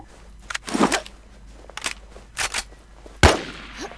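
Gunfire in the WarZ video game: scattered sharp shots in short bursts, a few moderately loud cracks spread over a few seconds, with one sharp close shot near the end.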